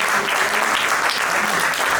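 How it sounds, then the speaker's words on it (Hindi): Audience applause for performers at the close of a Hindi stage play by an amateur drama association, a dense, steady wash of clapping filling the whole stretch at full volume. "जोरदार तालियां हो जाए"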